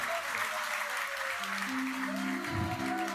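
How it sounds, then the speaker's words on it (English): Audience applause at a siyum celebration marking completion of Kiddushin and Seder Nashim: continuous crowd clapping with some low tonal sounds and faint voices beneath it. "let's give a huge round of applause"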